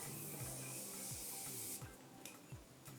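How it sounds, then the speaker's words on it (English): A Morphe makeup setting spray hisses out in a steady, faint mist lasting under two seconds. Soft handling taps and clicks fall around and after it, with no voices. "I'm gonna go ahead and use my setting spray from Murphy."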